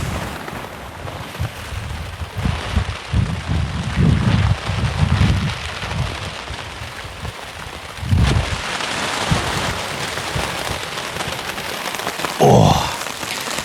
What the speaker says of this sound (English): This rain just blew in out of nowhere.